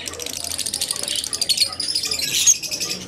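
Lutino birds at a busy bird market give rapid, high chirps and squawky calls close by, a dense twittering chatter that swells and fades over a few seconds.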